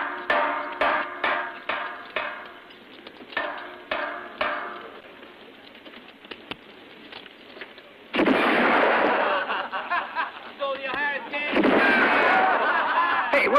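Gunfire in a western film: a rapid series of sharp shots echoes, then sparser single cracks, before loud sustained shouting and commotion with more shots mixed in.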